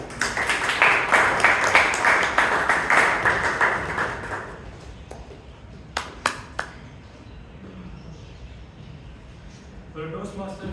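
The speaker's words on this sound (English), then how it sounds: "Round of applause for Toastmaster Ganesh" Audience applause at a Toastmasters club meeting in Bangalore, a dense patter of clapping that swells for about four seconds and then fades, leaving room noise, a few sharp taps and a faint voice near the end.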